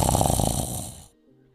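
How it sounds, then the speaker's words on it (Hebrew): A comic snoring sound effect resembling a piglet's snort, one loud, rough, sustained burst lasting about a second before cutting off to near silence. "זה נחירות, ממש כמו של חזרזיר"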